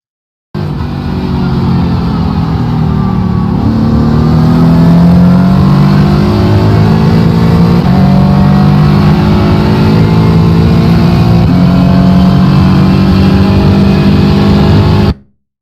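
A race car engine in a racing simulator game at NJMP (New Jersey Motorsports Park) drones loudly and steadily. Its pitch rises and falls through gear changes and throttle lifts, then cuts off abruptly.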